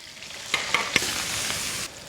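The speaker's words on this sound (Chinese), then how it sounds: "炼熟后下干花椒炝锅， 再来一点姜、葱、蒜泡椒和泡姜，" Dried Sichuan peppercorns, ginger, scallion, garlic and pickled chili hit hot rapeseed oil in a wok for Chongqing-style Laifeng fish. A loud, close, steady sizzle carries a few sharp stirring clicks, then cuts off near the end.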